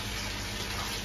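Steady bubbling and gushing of water in a fry tank, continuous and fairly close throughout with no voices.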